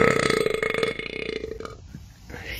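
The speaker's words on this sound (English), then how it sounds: "Love how close the burps are to the camera in this one." A long, loud, gravelly burp right up close, rumbling steadily for about two seconds before trailing off into a short breathy tail.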